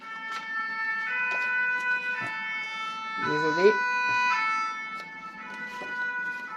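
A fire engine siren passes outside an open window in Clermont-Ferrand on a hot day, its steady wailing tones filling the room at moderate distance while a voice speaks briefly over it.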